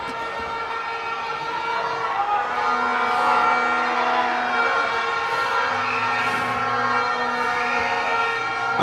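Crowd of football fans cheering at an inter-primary school tournament, a loud sustained roar with rising whistles and horn-like tones, continuous and fairly close.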